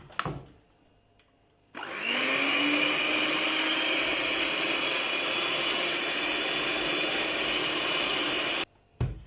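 An electric mixer beats sugar into batter for a vanilla sponge cake. It whirs up after a short quiet start, then runs as a loud, steady motor drone for several seconds before stopping abruptly.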